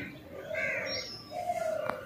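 Pigeons coo in soft, low, drawn-out calls, two main phrases close by, with faint chirps over light background noise.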